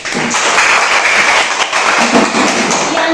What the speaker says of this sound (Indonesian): Silakan Ustaz, tepuk tangan.